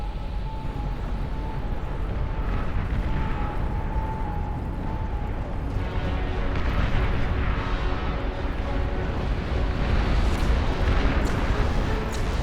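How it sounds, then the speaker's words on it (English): Dense, continuous rumble of massed artillery fire and explosions in a hundred-player multiplayer real-time strategy battle, a thick unbroken roar with scattered sharper blasts swelling in the second half. "Starfall's firing at the Cortex front as well."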